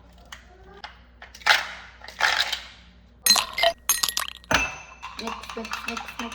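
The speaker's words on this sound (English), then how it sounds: "I will take 3 ice cubes here." Three ice cubes clink and rattle into a glass while making an iced milk drink at home, a series of sharp, bright knocks and chinks in quick succession, close and fairly loud, with brief talk around them.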